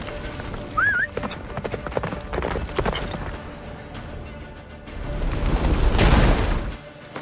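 A horse gallops in the video game The Witcher 3 during a rush through a blizzard toward a fortress, with loud rapid hoofbeats among booming game effects, a neigh and a rising wind roar.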